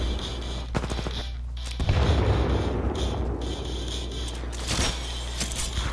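Gunfire in the shooter game Titanfall 2, continuous rapid automatic fire and heavy booming shots in a dense barrage, with louder bursts near the start and end.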